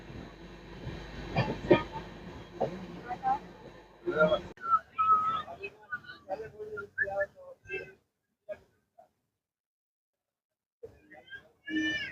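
The Magadh Express runs along the line after leaving Firozabad, a steady rumbling rattle for the first few seconds, then fading into scattered whistle-like tones and short voices before near silence.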